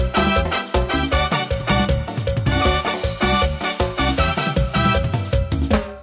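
A Korg Pa arranger keyboard plays a song style variation, with dense, continuous full-band accompaniment, steady drums and bass under chords, loud and close, with no voices.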